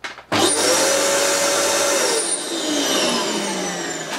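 A Dyson DC14 All-Floors vacuum cleaner with a suspected clutch fault switches on abruptly, then runs as a loud, close, steady motor roar with a high whine for about four seconds.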